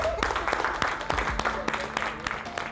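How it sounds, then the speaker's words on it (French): A restaurant kitchen team applauds itself one last time, a short burst of scattered hand claps mixed with chatter and voices in a busy room. "on s'applaudit une dernière fois"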